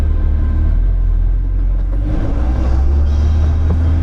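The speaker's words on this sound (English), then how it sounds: "and I go drive the Corvette." A Corvette's engine drones steadily while driving, a loud, continuous low rumble with a slight rise in revs partway through and no talk over it.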